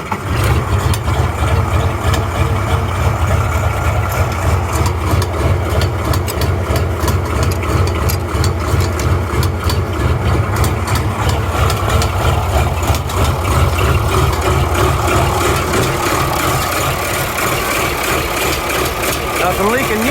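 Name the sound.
Oliver 1755 tractor engine idling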